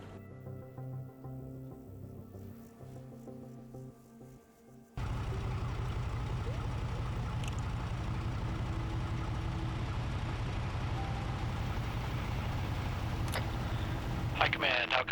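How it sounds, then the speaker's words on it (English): Military video game vehicle engines, a low, steady rumble that suddenly starts partway through and continues evenly, with voices talking over it. "Hearing 2 engines."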